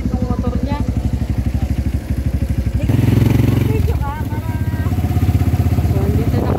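A low motorcycle's engine runs steadily with a rhythmic low throb, loud and close, then swells as it revs, with rain conditions and people talking over it.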